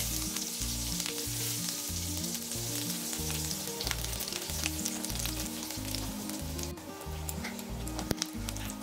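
Cumin seeds, green chili and ginger frying in hot oil, a loud steady sizzle with crackles and occasional stirring, over a rhythmic low background pattern.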